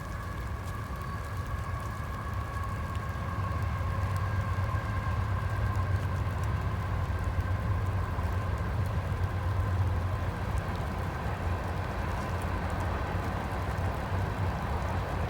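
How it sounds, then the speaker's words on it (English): A train rolling along a railroad track that cuts through wetlands, a steady low rumble with faint tonal whines, heard from a distance and holding for the whole stretch with no speech. "Now, you can hear the train."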